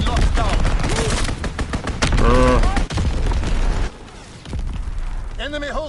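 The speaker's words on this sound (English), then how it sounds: "Enemy strafing run incoming." Rapid gunfire and explosive bursts from an enemy strafing run in Call of Duty WW2 multiplayer, loud and dense throughout, with in-game announcer voice lines and a player talking over the chaotic battle noise.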